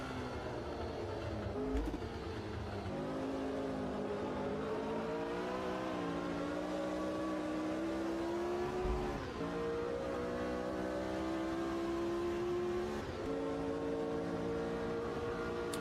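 Vintage 1967 Formula One car racing around the Spa circuit in Automobilista 2, its engine droning steadily with rising and falling harmonics through gear changes, loud and continuous with brief dips at shifts.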